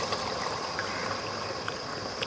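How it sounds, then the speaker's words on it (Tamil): Water poured into a cooking pan, a steady trickling, gurgling flow heard up close and alone for a couple of seconds. "தண்ணி ஆட் பண்ணிக்கோங்க."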